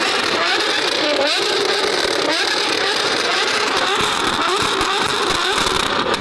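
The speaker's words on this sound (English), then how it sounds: "that's what a straight piped Enzo engine sounds like." A straight-piped Ferrari Enzo V12 revs hard. Its loud, raspy engine note climbs and falls in repeated pulls and stays close and dominant throughout.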